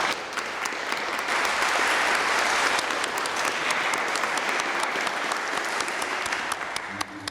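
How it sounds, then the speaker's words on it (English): An audience at a 30th-anniversary event marking the fall of the Berlin Wall breaks into sustained applause, dense clapping that swells quickly and holds steady before tapering at the end. "the applause came this time for Slavia and not for you"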